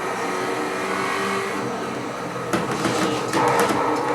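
Race car engine in a racing video game played on a Fanatec CSL Elite wheel, a sustained droning engine note that shifts midway, with sharper bursts and revving toward the end as the car gets loose under braking.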